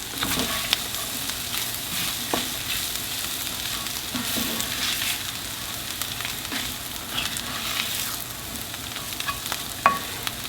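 Tempeh being stirred back into onions frying in a pan for tempeh tacos, a steady soft sizzle with occasional scraping stir clicks, close and continuous without talk.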